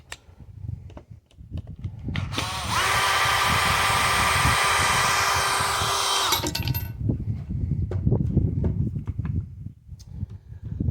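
Power driver working screws out of a bullpup rifle frame, one steady whirring run lasting about four seconds, close and loud, with softer handling clatter before and after.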